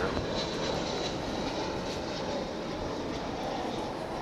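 A jet aircraft at Dallas/Fort Worth Airport roars with a steady, broad engine noise that stays loud and even throughout.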